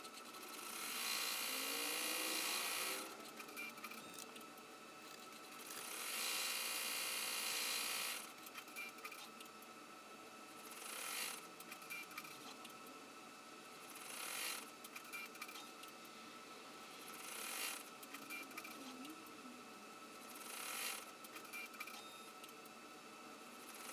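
An embroidery machine stitches the outline and rivet marks on a handbag, with rapid mechanical chatter in several bursts of varying length separated by quieter whirring pauses, close and steady, no talking.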